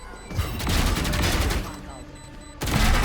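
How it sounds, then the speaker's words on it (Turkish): Gunfire in a shooter video game, rapid bursts of shots rattling across most of the stretch with a heavier blast near the end, loud and close, while players talk excitedly over it. "Vurun Viper'ı"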